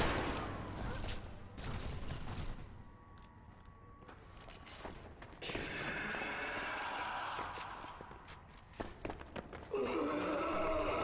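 Scattered gunshots ring out in the zombie game Zombie Army Trilogy, sharp cracks spaced irregularly, clustering near the end, amid in-game noise, shuffling movement and occasional voices.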